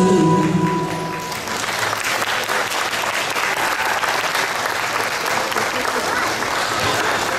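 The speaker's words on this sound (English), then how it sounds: "have another round of applause" Applause from an audience after a Bengali dance performance by the Vichitra Bengali Association of Manitoba, dense sustained clapping that swells right after the music ends and holds steady throughout.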